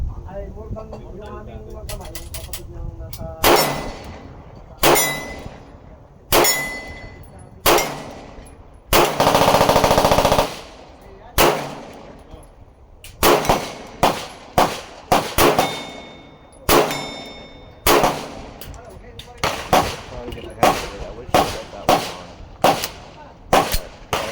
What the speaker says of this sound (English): The Echelon Glock 19 clone.